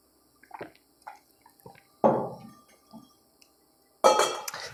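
Water sloshes and pours in two short, fairly loud bursts, likely from a glass or bottle, between faint clinks and small handling noises in a quiet room.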